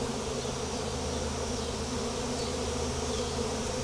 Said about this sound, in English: they're really fanning pretty heavy now. All the bees on the ground